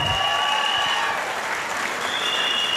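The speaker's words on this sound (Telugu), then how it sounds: "ఒకసారి సలీం సార్ గ్రాండ్ క్లాప్స్ జోరుగా" An audience at a housewarming gathering gives Saleem sir a grand round of applause: dense, steady clapping from many hands, loud and sustained throughout.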